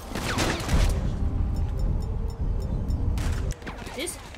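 Gunfire in the video game Grand Theft Auto 5, a loud run of rapid game shots and booms over a dense bed of game noise, with voices talking over it.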